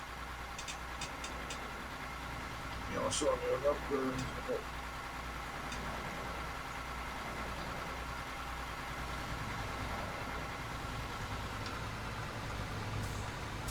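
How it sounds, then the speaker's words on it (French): A truck engine idles steadily in Euro Truck Simulator 2 on a drive from Milan toward Reims, a constant low drone running throughout while people talk over it. "le son du moteur"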